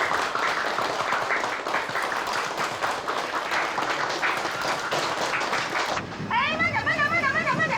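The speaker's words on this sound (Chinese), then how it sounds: "我们大家为黄文秀同志鼓鼓掌" Audience applause fills a meeting hall for Huang Wenxiu, a village poverty-alleviation worker, with dense steady clapping for about six seconds. It then gives way to high squealing cries and voices.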